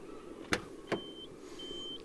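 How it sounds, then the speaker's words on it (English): Two sharp mechanical clicks from the trunk release of a 1993 Nissan Skyline GT-R R32, close by, followed by faint electronic beeps over a quiet background hum. "let me open up the trunk so that you can see."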